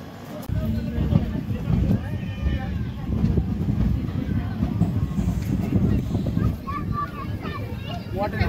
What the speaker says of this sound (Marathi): बार्शी रेल्वे स्टेशनवरून आपली ट्रेन निघालेली आहे